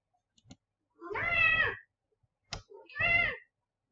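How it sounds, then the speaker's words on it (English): A cat meows twice indoors, two clear drawn-out calls about a second apart, close and fairly loud, with a couple of faint clicks in between and no talking. "Kitty has decided to join the conversation."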